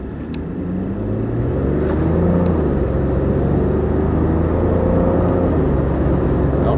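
A truck with a 3.5 twin-turbo engine pulls a load on the road, a loud, steady engine drone and rumble under a rising whir, building slightly in the first seconds and then holding close and constant, with no talking.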